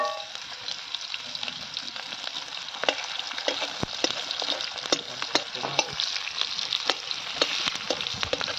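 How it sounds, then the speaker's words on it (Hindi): Onions frying in a hot pan with oil and spices, a steady crackling sizzle broken by frequent scraping stirs of a spatula, close and continuous with no talking. "तापर प्याज दे दवा"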